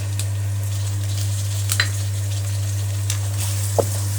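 Spices frying in a pan for a potato, egg and capsicum curry, giving a steady close sizzle with a few brief clicks and scrapes and no talking.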